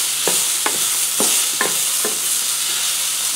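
Onions sautéing in a pan for fenugreek curry rice: a loud, continuous hiss of frying with several sharp stirring scrapes at a steady rhythm, close up and without any talk.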